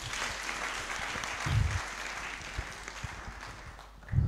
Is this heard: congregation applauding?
yes